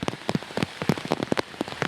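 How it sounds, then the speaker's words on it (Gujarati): Heavy rain pours down in Vadodara, with irregular close drops and splatters striking a surface in quick bursts over a constant hiss, loud and near, with no voices. "ધોધમાર વરસાદ પડી રહ્યો છે."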